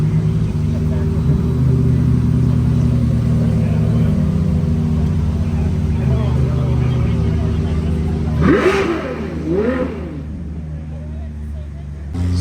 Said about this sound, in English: And right as we're going through the cars, the SP3 is leaving.